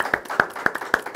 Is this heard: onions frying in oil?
no